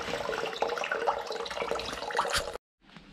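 Water from a central heating system drains noisily into a bucket, a steady broadband splashing and gushing that runs close and loud for most of the moment before cutting off abruptly, followed by a fainter trickle.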